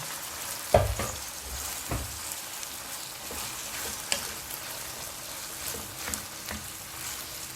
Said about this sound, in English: Leave this to still keep frying.